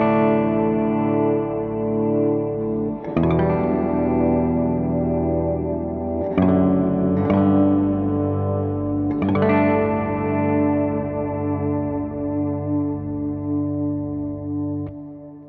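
An electric guitar plays through a Meris Mercury X pedal on its Lo-Fi Hall reverb, with an octave-below voice phasing in and out. Sustained chords are struck about every few seconds and wash into long, swelling reverb tails, with no voices.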